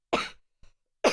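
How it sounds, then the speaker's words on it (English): Two sharp, close coughs from one person during a livestream, separated by a faint catch of breath. "first cough of the stream"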